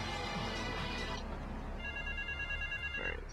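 A payphone rings in Grand Theft Auto III, an electronic ringing tone sounding under game noise that drops away midway, with a brief second ring near the end.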